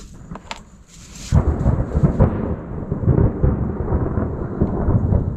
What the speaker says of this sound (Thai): เสียงฟ้าร้องนะครับ